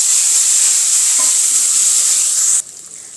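Onion with ginger-chilli-garlic paste sizzling and frying in a hot pan, a loud steady hiss with a faint stir clink, cutting off abruptly near the end to a much quieter hush.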